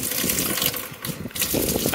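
Water gushing from a pump into a V-TUF bowser tank at an outdoor pressure-washing and sanding job, a loud, continuous rushing splash with brief dips in the flow.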